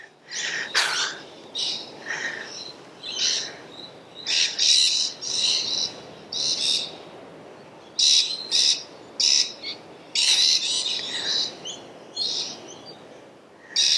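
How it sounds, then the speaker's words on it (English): Wild birds call in short repeated bursts of chirps and whistles, fairly near, against a quiet outdoor background. "I hope you're enjoying the noise of the wildlife this evening."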